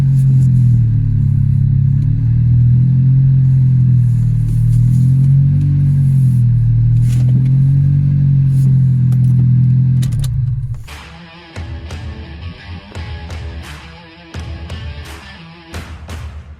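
A Toyota Yaris with its centre exhaust pipe come away from the centre box hums with a steady, loud engine drone, then turns to irregular metallic clonks and rattles once the engine note drops away.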